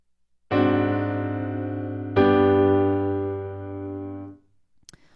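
Two sustained piano chords, a French augmented sixth chord resolving to the five chord, each struck cleanly and left to ring before fading into silence.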